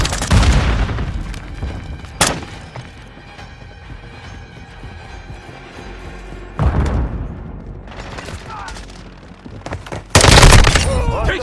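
A Semtex grenade blows up with a loud boom in Call of Duty MW2. Bursts of gunfire follow, with a second sharp blast near the end.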